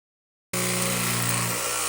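Extra sheet metal is cut off a Chevy G20 van's rust repair panel with a power tool, which starts abruptly after a short silence and then holds a loud, steady buzzing whine.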